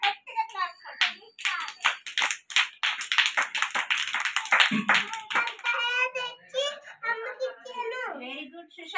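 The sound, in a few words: children clapping loudly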